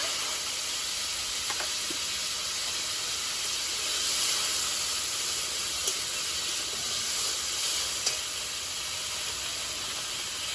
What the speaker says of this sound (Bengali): প্রথমে আলুটা ভেজে নেব